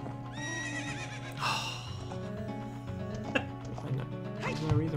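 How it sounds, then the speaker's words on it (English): A horse whinnies loudly in The Legend of Zelda: Ocarina of Time, with clip-clop hoofbeats and a snort in the game audio, heard under someone talking. "We're gonna ride a horse with carrots into a wall"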